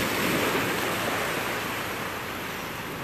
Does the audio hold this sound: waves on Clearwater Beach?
yes